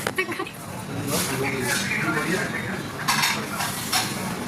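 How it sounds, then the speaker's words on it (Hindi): A metal spoon clinks and scrapes against a dish while someone eats bread aboard a passenger flight, with intermittent light clinks under close conversation and steady cabin hum. "कोई चम्मच से ब्रेड खा रही है दीदी घर पे"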